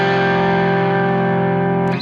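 A guitar chord from a lesson rings out, sustained and loud with a distorted, effects-heavy tone, close and steady before cutting off at the end.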